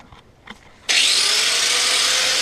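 A power tool bites into a Nissan 350Z fender, starting abruptly after a few faint knocks and holding a loud, steady high-pitched whine as it cuts through the panel.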